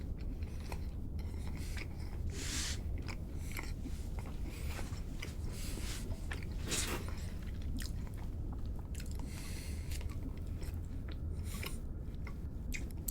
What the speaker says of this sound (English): excuse me for a bit of the munching noises by now